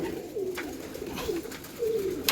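Three soft, low coos from a female pigeon, each a brief falling note spaced about a second apart, with a few faint clicks and rustles between them as it is let out of its cage.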